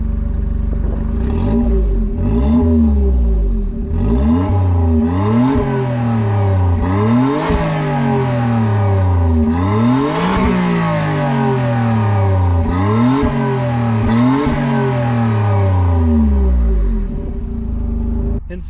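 A 1995 Suzuki Alto Works RS-Z kei hot hatch revs repeatedly through a catback exhaust with a small muffler, the engine note rising and falling in a series of sharp, loud blips close to the microphone.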